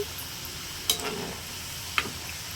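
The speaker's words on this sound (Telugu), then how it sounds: "ఆయిల్ అనేది మీడియం ఫ్లేమ్లో ఉండాలండి బాగా వేయించుకోవాలండి" Half moon biscuits deep frying in oil over a medium flame, heard as a soft continuous sizzle broken by two sharp clicks of a utensil against the pan, with no voices.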